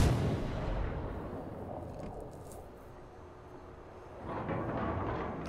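Warship guns fire in a naval battle video game, including a destroyer shelling an area, heard as heavy booming blasts and rumbling roar, fading mid-clip before another burst of firing.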